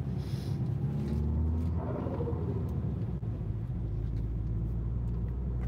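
Low, steady rumble of a turbocharged car engine heard from inside the cabin, a constant deep drone with a brief rise in pitch partway through, no talking over it.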